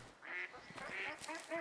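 Ducks quack in the hunting game Way of the Hunter, set in the Alaskan lowlands between lakes. There are several raspy calls in quick bursts, at moderate distance and without talk.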